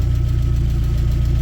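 Repaired 1.8T engine from a VW Golf 2 GLI idling in a workshop, a close, loud, steady low throb with a fast regular pulsing beat and no voices.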